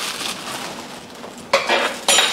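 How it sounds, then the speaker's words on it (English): Metal spoon clinking against a bowl while gochujang is mixed into Korean beef tapa, a soft scraping stir followed by two sharp, close clinks near the end. "Then we mix everything together."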